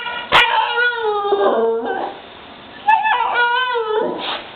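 A husky puppy whimpering and howling close up in long wavering cries, with a short sharp yip near the start and a second drawn-out cry after a brief pause.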